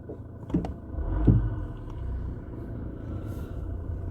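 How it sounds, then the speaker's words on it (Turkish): A car passes behind a stopped vehicle on a hill, a low rumbling engine that swells and then holds steady close by, with no talking. "Şimdi arkamda araç var. Onun geçmesini bir bekleyelim."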